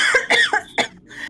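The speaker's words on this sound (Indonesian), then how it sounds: "Oh, batuk" Several quick, close coughs in a short burst, dry and fairly loud, with no talk around them.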